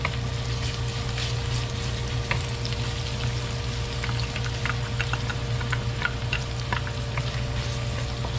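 Garlic sizzling and frying steadily in a hot pan while cooking kare kare, a continuous crackling hiss with occasional stirring, close and moderately loud with no talking.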